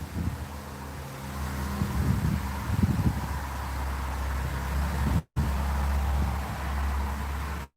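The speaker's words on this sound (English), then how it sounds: "Yeah, it is quite windy." Steady wind rushes and buffets the microphone on an outdoor patio, with low rumbling gusts and rustling that drop out briefly twice.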